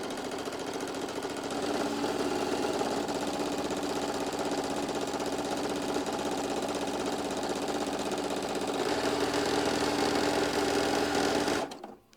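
A sewing machine runs steadily, stitching fabric for a Daisy May sew-and-show project, a loud continuous mechanical whir lasting several seconds before stopping abruptly.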